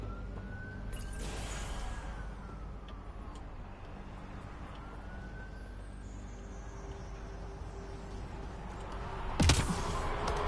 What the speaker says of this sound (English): Damn, sirens already, huh?